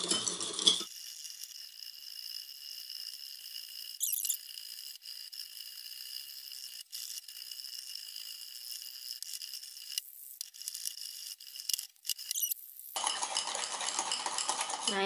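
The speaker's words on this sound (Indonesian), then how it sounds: "Kita aduk terlebih dahulu. Nah, jika sudah, sekarang akan kita kocok." Instant coffee mixture for dalgona coffee stirred and whisked in a cup, a fast continuous scraping and clinking of a utensil against the sides, with a few short pauses, close and fairly quiet.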